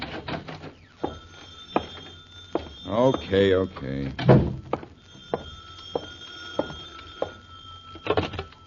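A telephone rings in repeated short bells at a steady rhythm in a quiet room, with brief thumps and a person speaking in the middle.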